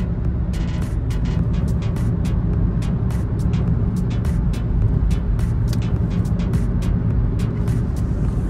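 A car cruises down a highway on cruise control, heard from inside as a steady low road and engine rumble with faint ticking clicks scattered throughout.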